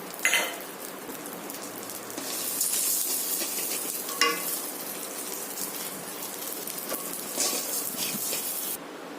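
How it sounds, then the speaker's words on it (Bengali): Rice grains fry with bay leaf in a pan for payesh, giving a close, crackly sizzle with a few sharper bursts as they are stirred and no talking. "চালগুলো একটু ভেজে নেব।"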